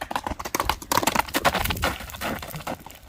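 Horse hooves clip-clop in uneven, close knocks at a livestock market where horses are being sold, a busy irregular patter of steps.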